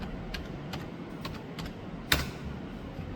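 Sparse keyboard taps entering the ipconfig command at a Windows-style command prompt, a handful of soft clicks over steady room hiss with one sharper key press near the end.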